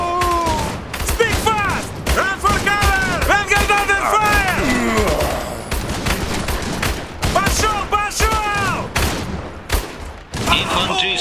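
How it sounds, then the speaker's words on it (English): Dense gunfire in the strategy video game Iron Harvest, rapid volleys and machine-gun bursts crackling almost without pause, loud and close, while shouted unit voice lines sound over the shooting. "They're shooting here!"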